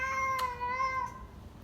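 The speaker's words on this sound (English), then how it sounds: "This is my cat, Bill." A pet cat meows in a single drawn-out, harmonic cry lasting over a second, close and clear against a quiet indoor background.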